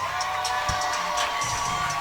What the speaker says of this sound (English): crowd is going crazy for him